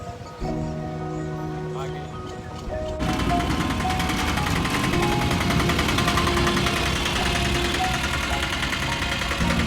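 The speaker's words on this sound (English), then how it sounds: "Our first delivery in our little tuk-tuk." A small diesel tuk-tuk engine starts up and runs with a loud, rough, rattling clatter that goes on steadily for several seconds, with people talking nearby.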